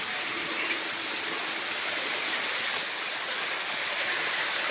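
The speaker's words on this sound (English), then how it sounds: "There's the creek." Steady broadband rush of a creek flowing near a railway trestle on a foggy day, constant and fairly close with no pauses and no voices.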